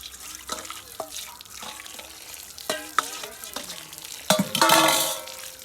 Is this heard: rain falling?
no